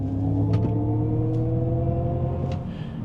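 A 2025 Cadillac OPTIQ Sport 1 AWD electric SUV accelerates hard, heard from inside as a steady low rumble of road and tyre noise with a faint rising whine and a few light clicks.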